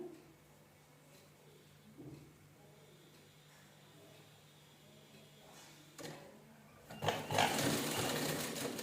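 A sewing machine stitches tassels made from leftover blouse fabric for a saree, with faint intermittent whirring bursts and a louder, rougher run of stitching near the end; no clear talk.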